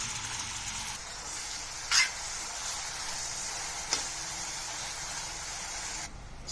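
Coarsely ground onions fry steadily in hot oil on a stove at medium flame, a constant close sizzle broken by a couple of sharp scraping stirs, with no voices.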